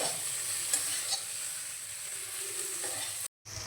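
Chowmein noodles stir-frying in a wok, a close, constant hiss of sizzling oil with a few light scrapes and taps, then an abrupt brief cut near the end.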